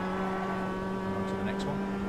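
Simulated race car engine from the iRacing game holds a steady droning tone while rolling through a corner, continuous and fairly close, with someone talking over it.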